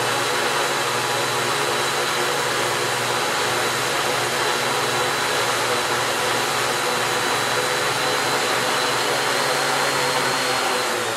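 Motors of a T650Q aircraft on its first flight held at 50% throttle, a loud, steady, dense whirring roar without pause from start to finish, close by, with no voices.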